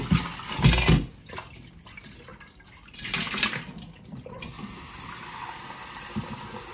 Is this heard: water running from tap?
yes